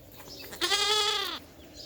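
A Salem black goat on a village farm lets out one long, wavering bleat at moderate distance, with quiet surroundings before and after.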